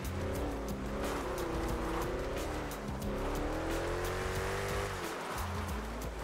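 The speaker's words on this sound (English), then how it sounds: "Drifting a drag car." A drag car drifts in GTA 5, its engine roaring steadily with long, continuous tire squeal and wavering pitch throughout, loud and alone without talk.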